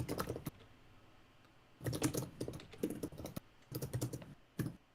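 Bursts of quiet, close typing on a computer keyboard, with rapid key clicks in three clusters separated by short pauses, heard alone.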